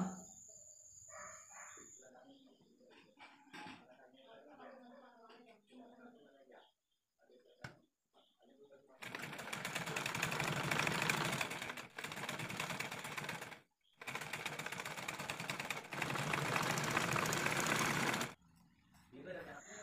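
A sewing machine stitches a fabric piece onto the neck of a frock-style nighty, running in two long, loud bursts of rapid mechanical chatter with a brief stop between them, after an earlier stretch of talking.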